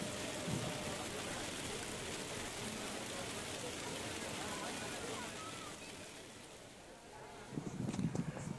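Steady rain falling at Dharmasthala's Sri Manjunathaswamy temple, a dense continuous hiss, with a few faint voices near the end.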